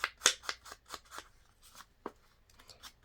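Scissors snip repeatedly through medium-weight cardstock while a journal card is trimmed: a quick run of sharp, close cuts, then a few slower, scattered snips, with no talking.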